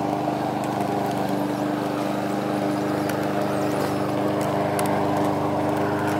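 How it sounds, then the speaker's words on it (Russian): A lawn mower engine drones steadily in a garden, a continuous close, buzzing hum that neither rises nor fades, with no voices. "Сейчас деда будет косить."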